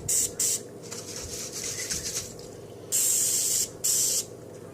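Olive oil cooking spray hisses into a pot in several close, sharp bursts of varying length, with short pauses in between while a kitchen hum continues underneath.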